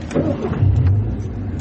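A car engine turns over and catches inside the vehicle after the door closes, settling into a steady low rumble heard up close with no talk.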